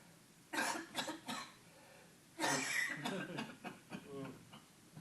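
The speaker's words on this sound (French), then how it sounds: "Toussez, toussez." A person coughs several times close by, in two short bursts of harsh, breathy coughs separated by a brief quiet pause.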